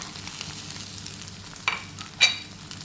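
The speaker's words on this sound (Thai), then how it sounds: "ผัดให้ ไข่กับกระเจี๊ยบเข้ากันนะคะ" Okra and egg stir-fried together in a pan with no added water, a faint, steady sizzle under two short, sharp scrapes of a utensil on the pan near the end.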